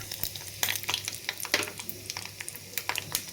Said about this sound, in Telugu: జీలకర్ర ఎండు మిరపకాయ వేసి వేయించాలి అవి వేగుతుండగా ఇంగు వేయాలి